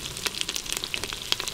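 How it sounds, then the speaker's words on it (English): Chorizo sizzles and crackles in a pot as its fat renders out, a steady close frying hiss broken by sharp popping spatters. "to cook this chorizo down so it really renders the fat out"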